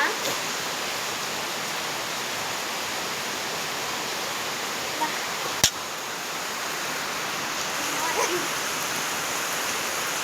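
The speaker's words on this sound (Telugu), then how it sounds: "వానైతే చాలా గట్టిగా పడుతుంది." Heavy rain pouring down outdoors in cold, windy weather, a constant dense hiss that stays steady throughout, with one sharp click partway and no voices over it.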